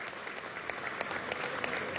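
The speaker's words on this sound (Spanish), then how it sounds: "un aplauso bien fuerte, ¿vale?" Audience applause for Mundito Pérez and his orchestra at a Venezuelan entrepreneurs' event, a dense steady patter of many hands clapping at moderate distance, with no voices over it.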